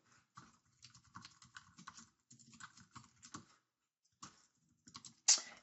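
Quick bursts of keystrokes on a computer keyboard, close and fairly quiet, typed in irregular clusters with short pauses and a louder clack at the end.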